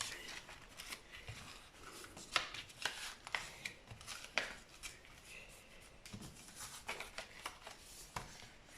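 A handmade paper letter slid into a paper envelope with care, still partly wet, giving soft close rustles and several sharp papery scrapes and taps, quiet and intermittent with no talking.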